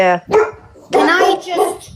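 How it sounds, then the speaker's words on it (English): A pet dog barks indoors during a live online chat, two loud close yaps mixed in with people talking over them. "Sorry, that's my dog."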